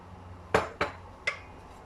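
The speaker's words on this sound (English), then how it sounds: "So now I'm going to add in some carrots and some French beans." Carrots and French beans tumble into a cooking pot in three sharp clanking hits, quick and close, the first two close together and a third after a brief pause, with quiet room tone between.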